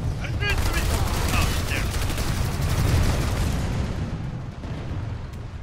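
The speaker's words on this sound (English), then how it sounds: "Getting killed by a friendly tank shell, like usual in tower fights" A tank shell bursting in a Planetside 2 tower fight, amid a dense barrage of gunfire and explosions that stays loud and continuous before thinning slightly toward the end.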